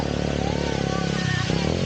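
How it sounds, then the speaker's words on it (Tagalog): A motorcycle engine running close by in a busy street scene in Cebu, with a steady mid-pitched drone that shifts tone partway through, while people talk loudly over it. "Ay, may motor ah, may motor."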